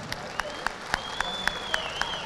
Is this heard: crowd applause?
yes